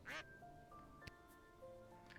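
A loud, close duck quack from the Lil Guardsman video game opens the moment, followed by sparse musical tones and a soft tap, with the quack's nasal burst clearly standing out.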